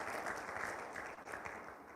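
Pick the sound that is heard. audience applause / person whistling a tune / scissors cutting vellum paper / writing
audience applause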